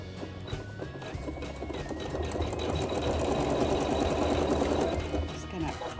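A sewing machine runs steadily, quilting an appliqué block held in an embroidery hoop, its fast rhythmic stitching close and continuous while a person talks over it.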